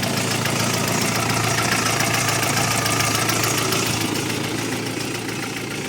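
A warmed-up Audi 80 engine idles steadily with a faint irregular knock, a continuous close mechanical drone with light vibration and no voices.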